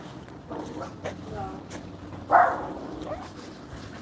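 A little dog outdoors gives a sharp yip and some soft whimpers under steady background noise and nearby talk, one brief louder bark standing out midway.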